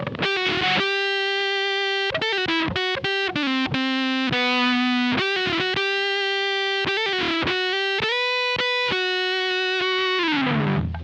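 An electric guitar plays a sustained, singing lead line through a Supro Drive overdrive pedal, distorted notes with long violin-like sustain and a few quick runs, loud and alone.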